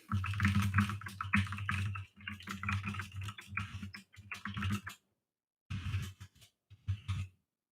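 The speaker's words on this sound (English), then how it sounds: "I'll just quickly type on Facebook that I'm gonna stream right now." Bursts of rapid computer keyboard typing at a home streaming desk, clattering in quick runs with short pauses and a few isolated taps near the end; no talking.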